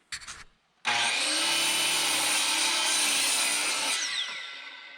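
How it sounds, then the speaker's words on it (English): A bandsaw mill cuts boards from small logs for house siding, a loud continuous whine that starts abruptly after a brief rattle and holds steady before fading slightly near the end. "This morning I'm cutting boards, just going to get a bunch of them prepped for the siding."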